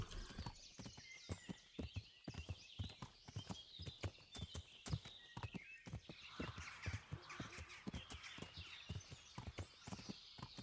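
Horse hooves clip-clopping steadily at a walking pace on a path in the medieval video game Kingdom Come: Deliverance, a rhythmic run of sharp, fairly close hoofbeats, with a crow cawing faintly in the background.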